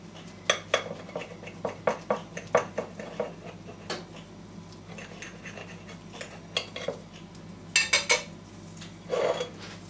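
A knife slicing through toast topped with egg, jam and cheese on a plate, giving a run of close, irregular clicks, scrapes and taps of metal on the plate, with louder clustered strokes near the end.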